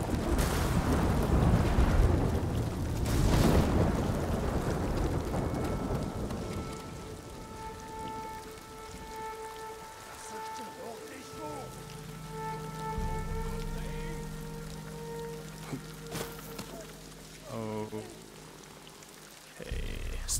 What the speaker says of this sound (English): Some heavy storm.